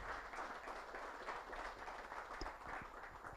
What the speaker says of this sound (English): So a warm round of applause as Dr.